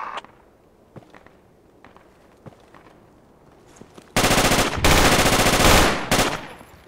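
Gunfire in the video game Project Reality: scattered single shots and footsteps at first, then long, loud bursts of automatic fire that dominate the last few seconds.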